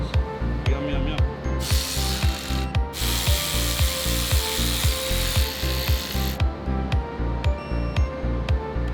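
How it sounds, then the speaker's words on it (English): A torque wrench ratchets steadily, tightening new oil pan bolts on a supercharged Demon engine. A close, rapid string of evenly spaced clicks runs throughout, with a scraping rub layered over the middle stretch. "The final bolts get torqued to 105 inch-pounds."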